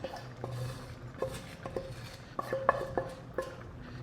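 A spoon stirring okra stew with crab in a pot, soft metallic clinks and scrapes against the pot in an uneven rhythm, close and fairly quiet, with no talking.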